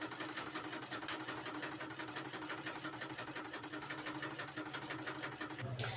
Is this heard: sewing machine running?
yes